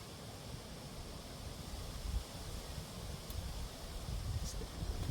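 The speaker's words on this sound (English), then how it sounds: "the wind's picking up" Wind blowing through the woods around a cabin, a soft, continuous rushing hiss with gentle gusty swells and faint rustling, heard alone without talk.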